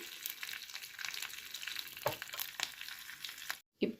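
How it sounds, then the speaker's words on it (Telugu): Mustard seeds crackle and pop in hot oil as a tempering of urad dal, dried red chillies and curry leaves fries for a chutney, a dense, close, continuous spluttering with sharper pops scattered throughout. "ఆవాలు చిట్పట్లు ఆడిపోయి"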